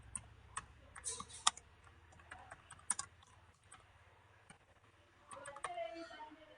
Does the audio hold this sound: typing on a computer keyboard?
yes